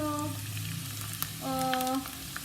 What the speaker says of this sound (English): we add the potatoes. The potatoes are cooking